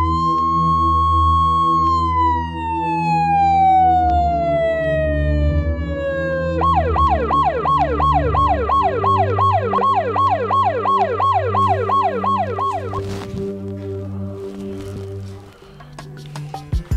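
Ambulance siren, loud and near, opening with a long wail that sweeps slowly downward, then switching to a rapid repeating yelp before fading under a low engine hum.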